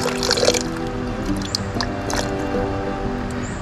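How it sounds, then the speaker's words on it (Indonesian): Tamarind water poured into a blender for sambal belacan, a close, continuous trickle with light dripping and splashing throughout, no voices. "Okey, air asam jawa sudah masuk."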